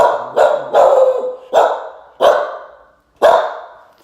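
A dog barks loudly and close by, six sharp barks in an uneven rhythm with brief pauses between them.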